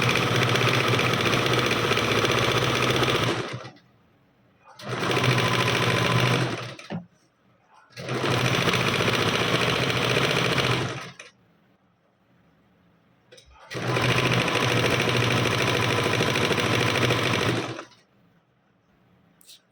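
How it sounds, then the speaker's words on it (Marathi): Sewing machine running double stitching along the layers of a frill dress, four long steady bursts of fast whirring stitches separated by short quiet pauses, close and loud. "आता मी डबल शिलाई देऊन घेते"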